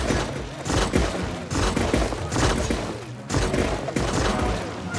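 Bombs exploding in the Ogu and the Secret Forest video game, a run of loud, booming blasts with crashing debris, several distinct bursts repeating every second or so, dense and close with no talking.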